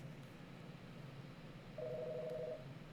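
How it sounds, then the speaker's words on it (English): A telephone gives a single steady electronic ring tone lasting under a second, quiet against a low background hum with no talking. "That phone only rings when we're live."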